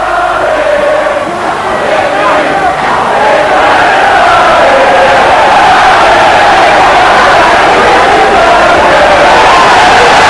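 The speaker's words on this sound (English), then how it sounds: "And that action moving this French crowd to song." A French boxing crowd sings together at a fight, a loud, sustained chant from a packed arena that fills the whole stretch without a break, with no commentary over it.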